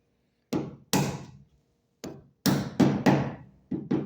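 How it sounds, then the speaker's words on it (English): A small rubber hammer taps a trim clip into place on a 1965 Mustang body during glass and weatherstripping work, giving about eight dull, close thunks in irregular pairs and singles with short silences between. "And just use your little rubber hammer"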